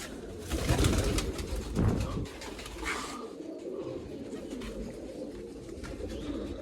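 Pigeons coo inside a loft, a low soft burbling that swells near and loud at first, then settles into a quieter steady murmur of cooing against rustling background noise.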